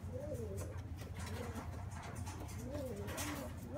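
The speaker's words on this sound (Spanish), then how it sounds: "las primeras palomas que están cayendo ahora" Pigeons cooing at a homing pigeon loft as the first racing birds arrive from a 217-mile race, soft repeated coos over steady low outdoor background noise.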